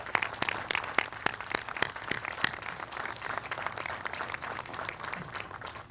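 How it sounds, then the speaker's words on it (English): Audience applause for the United States Armed Forces at a Day of Remembrance and Hope ceremony, steady clapping from a crowd with a few sharp, close claps standing out rhythmically, moderately quiet and continuous throughout. "I ask that you please join in a round of applause for our United States Armed Forces"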